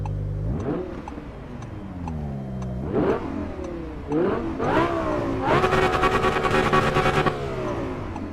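In the Assetto Corsa Evo racing game, a car engine revs repeatedly, rising and falling several times before climbing to a sustained high-rpm wail near the end, loud and alone without talk.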